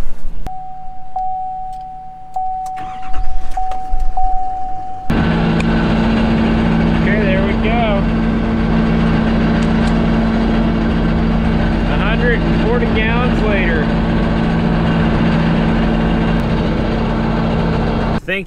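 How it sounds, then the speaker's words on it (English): Pickup truck engine cranks over and catches at a farm, then settles into a loud, steady idle with a deep rumble that runs unbroken to the end. "I'm gonna go start my truck and turn the heated seat on."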